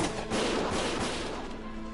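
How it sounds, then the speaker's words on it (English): Gunfire in the World War-style video game Valkyria Chronicles: a dense, continuous rumble of shots and blasts, steady and loud for the whole span with no voices. "Gunfire!"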